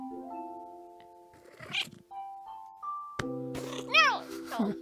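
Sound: cat meowing in the video game A Little To The Left

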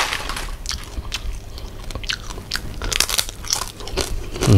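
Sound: biting and chewing crispy noodles and crispy pork

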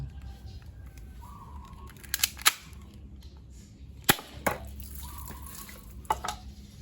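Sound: silver 1911 pistol test-firing at a can

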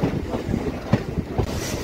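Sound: train passing on the opposite track

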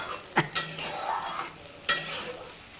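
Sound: tomato and green chilli paste sautéing in a pan

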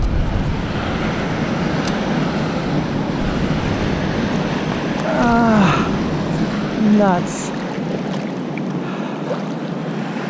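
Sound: big ocean waves

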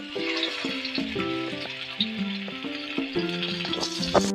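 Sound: mackerel (bangda) fish frying in oil in a pan

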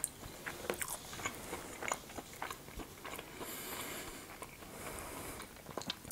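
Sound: biting crunchy edges of homemade waffles

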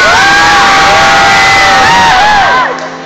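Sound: teenage crowd cheering for a singer

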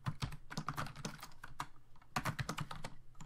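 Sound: typing on a computer keyboard

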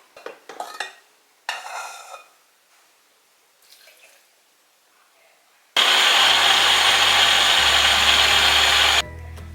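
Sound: blender blending ingredients for Thai lod chong dessert

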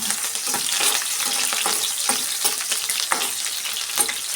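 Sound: onions and curry leaves frying in a pan

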